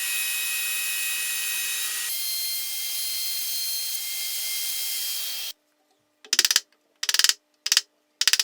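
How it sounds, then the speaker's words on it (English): Router cutting a groove in a wooden wine cellar structure, a loud steady high-pitched whine, followed by several short, sharp bursts of cutting after a pause. "I use the router to open the groove in the main structure."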